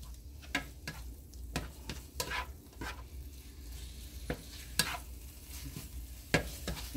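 Ground beef for tacos fries in a pan, a steady low sizzle broken by sharp clicks and scrapes as a spatula stirs and taps the meat, close and fairly quiet with no talking.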